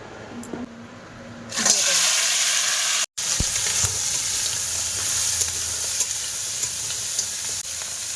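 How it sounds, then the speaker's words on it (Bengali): Crab pieces seasoned with salt and turmeric fry in hot oil in a wok for a Sundarbans river crab dish, a loud steady sizzle and hiss with stirring scrapes, briefly cut out partway through. "কাঁকড়া ভাজা হয়ে গেছে এবারে তুলে নেব"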